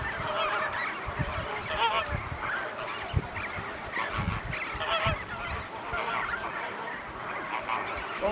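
A large breeding colony of American flamingos calls continuously, a dense, loud chorus of goose-like honking from thousands of birds layered over one another with no pauses.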